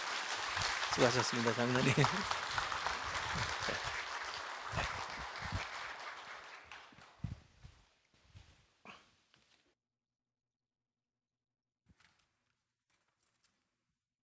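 Congregation applause during a Sunday church service, a dense clapping burst with voices mixed in that fades out after several seconds into near silence with a few stray sounds.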